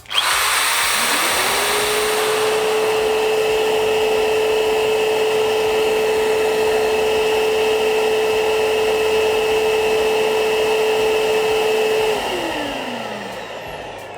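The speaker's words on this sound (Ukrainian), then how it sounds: "вмикаємо у розетку електроінструмент, перемикаємо тумблер у друге положення, тобто нижнє, і вмикаємо електроінструмент" A Procraft VP2000 construction vacuum whirs up to a loud, steady drone when a connected power tool starts, holding for about eleven seconds before winding down as it switches off.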